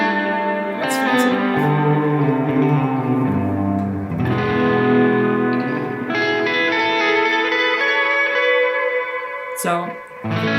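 Electric guitar run through a delay pedal set to quarter-note repeats, sustained chords and picked notes trailing off in echoing repeats and reverb wash, loud and close, with brief talk near the end.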